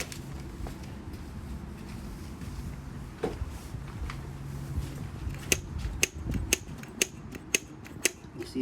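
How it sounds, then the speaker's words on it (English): The throttle of a Coolster 125cc pit bike is twisted by hand, giving soft mechanical creaks and a run of quick snapping clicks as the grip springs back, close up with the engine off. "I'll go ahead and twist the throttle"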